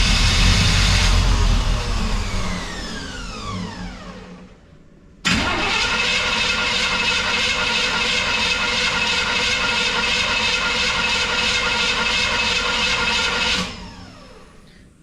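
A car engine that is not getting fuel winds down from a loud whirring. After a gap, the starter cranks with the key turned in a loud, steady churn for about eight seconds, then stops.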